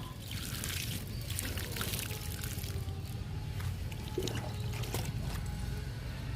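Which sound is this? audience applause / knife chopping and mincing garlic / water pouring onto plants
water pouring onto plants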